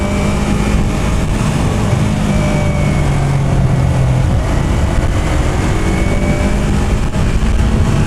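A Yamaha R3 motorcycle engine while riding on city roads in cold weather, a steady loud drone mixed with heavy wind rush, holding a fairly constant pitch throughout.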